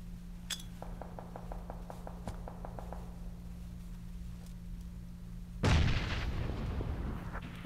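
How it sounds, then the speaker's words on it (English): A PUBG grenade goes off with a sudden loud, close blast about three-quarters of the way through, followed by a ringing, rumbling tail; before it, a steady game hum runs under a quick series of faint rhythmic clicks. "we decided to throw a few grenades"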